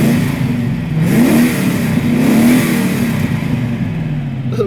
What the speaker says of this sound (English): if you can just make out the sound of the engine as I tap the accelerator